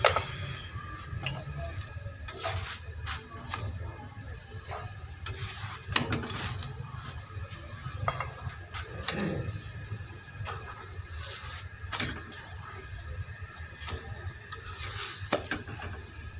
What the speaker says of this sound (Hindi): फिर साइड चेंज कर करके इसको पका लेंगे दोनों तरफ से अच्छी तरह से।